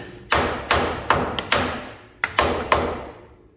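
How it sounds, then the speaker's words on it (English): A hammer pounds on a 1940 Chevy coupe, eight sharp, close metallic thuds in an uneven rhythm, each fading quickly before the next. "I'm going to have to wool up on it with a hammer."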